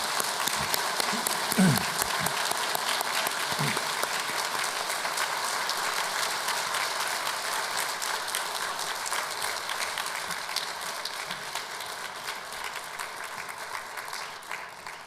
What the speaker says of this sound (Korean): 우리 목사님께 뜨거운 박수를 보내주시기 바랍니다